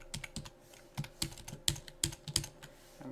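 Keystrokes on a computer keyboard while filling cells in a LibreOffice spreadsheet, a quick irregular run of close, light clicks with brief pauses between bursts.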